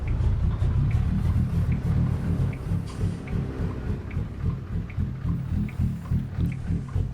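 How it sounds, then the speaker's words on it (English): A heavy truck engine in American Truck Simulator, hauling equipment loads around Montana, rumbles steadily and deep throughout, a continuous low drone with no pauses and no talk over it. "I just can't get over this engine, man. It just sounds so damn good."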